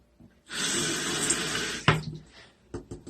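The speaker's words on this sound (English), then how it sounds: "Got some water sounds" Water runs from a tap in a steady hiss for about a second and a half to wet a cotton swab, then cuts off, followed by a few small clicks and drips.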